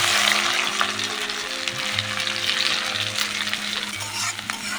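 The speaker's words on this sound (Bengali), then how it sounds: "পেঁয়াজ কুচিগুলো দিয়ে দিলাম" Chopped onions fry in hot oil with a loud, dense, continuous sizzle and crackle, with occasional stirring underneath.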